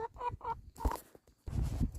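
Chickens in a home garden cluck nearby in short repeated calls, with a louder squawk mid-way and rustling, scratchy movement at the end.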